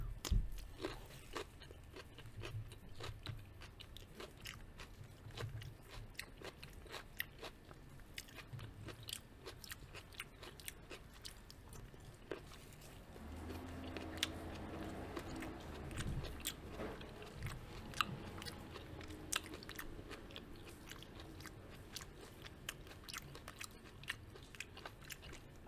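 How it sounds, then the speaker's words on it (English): Close crunching and chewing of raw vegetables dipped in hummus from a snack box with grape leaves, repeated bites and mastication heard alone, without talk. "Raw veggies are so easy to eat when you have hummus."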